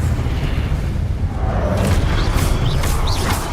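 A spell cast in the Hogwarts Legacy video game bursts out as a loud, rumbling boom, with a few quick whooshing sweeps rising over a dense, continuous roar of battle noise.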